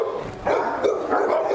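Dog barking on a Cane Corso breeding farm, a run of close, loud barks and yips repeating in quick bursts across the clip.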